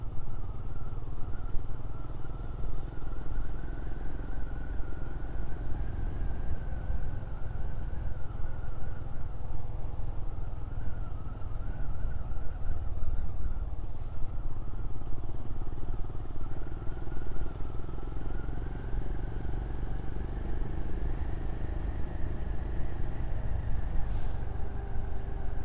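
Royal Enfield Scram motorcycle engine running steadily while riding through Snowdonia, a continuous thrumming drone with wind rush, sustained and close throughout.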